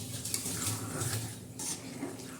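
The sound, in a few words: stirring besan in a pan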